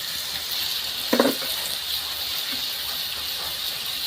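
Tomatoes going into a hot pan for a pea curry: a steady close sizzle with a brief burst of louder crackling as they hit the pan, then a soft even frying hiss.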